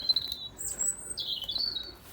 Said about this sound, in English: The blackbird is singing away.